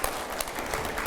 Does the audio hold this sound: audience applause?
yes